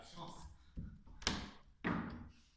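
A locked door in an abandoned house being rattled, giving several dull knocks and thuds at irregular intervals, fairly close, against a hushed room background.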